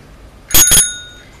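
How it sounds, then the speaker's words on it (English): A larger bicycle bell, the kind fitted to handlebars with a screwdriver, rings twice in quick succession up close, each bright metallic ding leaving a clear ringing tone that fades away over about a second. "and if you want a bigger bell, like this one"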